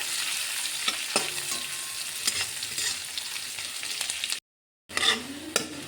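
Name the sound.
onions frying in oil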